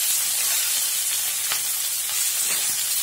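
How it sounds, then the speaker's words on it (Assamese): Small fish frying with pumpkin, salt and cumin powder in a pan, a steady close sizzle and hiss running throughout with faint stirring ticks, no voices. "এইখিনি ভালদৰে মছলাকৈ ভাজি লওঁ।"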